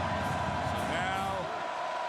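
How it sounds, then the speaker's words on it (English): A large California football crowd roars at a bowl game in a San Francisco ballpark on third and goal, a steady dense wash of cheering and shouting that fills the whole moment without pause. "this big Cal crowd trying to generate some noise at the beautiful ballpark by the Bay on 3rd and goal"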